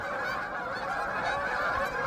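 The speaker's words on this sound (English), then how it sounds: "Here's the geese taking off." A dense, continuous chorus of geese honking as they take off from a pond in Chicago in winter, many birds overlapping at once, loud and close, with no pauses.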